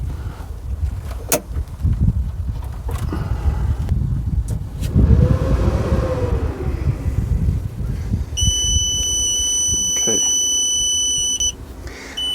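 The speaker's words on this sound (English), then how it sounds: "It beeps for a little bit while it tries to establish communication with the battery." A Growatt inverter in an RV power system gives off steady electronic beeps as it tries to connect to its battery. The beeps are a continuous high tone lasting several seconds near the end, with some handling noise before them.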